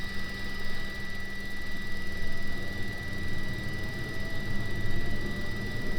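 Avro Vulcan jet engine number 2 spinning up on its starter, a steady loud turbine roar with a persistent high whine and low rumble throughout, no voices.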